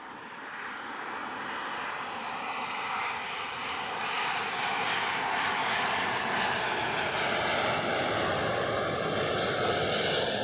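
An airplane on approach to Heathrow's southern runway 27 left, heard from Myrtle Avenue, makes a loud, steady broadband roar that swells gradually as it draws nearer.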